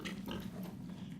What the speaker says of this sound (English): no one around. Just pigs